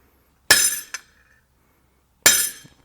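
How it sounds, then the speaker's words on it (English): A blacksmith strikes a hardy or chisel into hot steel, giving two sharp ringing metallic blows about two seconds apart, each with a bright clang and brief decay, with a small rebound tap after the first. "We're gonna use our hardy or the chisel to mark this so we don't lose the mark in the heat."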